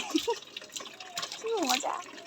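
A baby splashes and stirs water before a bath, giving brief watery slaps and drips, with voices babbling and talking over the splashes.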